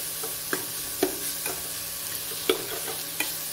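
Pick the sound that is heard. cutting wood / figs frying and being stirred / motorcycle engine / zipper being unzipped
figs frying and being stirred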